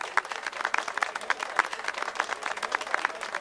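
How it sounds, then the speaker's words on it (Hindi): Audience clapping and applauding after a performance, a steady patter of hand claps at moderate distance, fairly quiet with a little crowd noise. "अरे ताली बजाओ ताली, क्या परफॉर्मेंस था"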